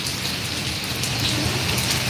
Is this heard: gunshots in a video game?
no